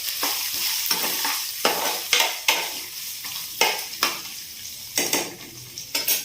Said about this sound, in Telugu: మిరపకాయలు కొంచెం వేగేంత వరకు ఇలాగ వేసుకోవాలి